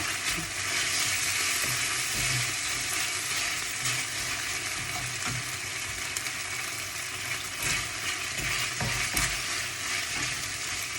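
Glass noodles with pork belly and mixed vegetables stir-fried in a hot pan: steady, loud sizzling throughout with scraping stirs and occasional clanks, no voices.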